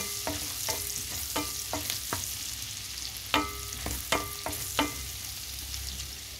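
Garlic frying in a pan until golden brown, with a steady background sizzle broken by repeated spatula clinks and scrapes against the pan as it is stirred.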